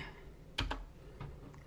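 Keystrokes on a computer keyboard while entering a Linux chmod command, a few sparse clicks in short bursts over a low steady background hum, fairly close and quiet.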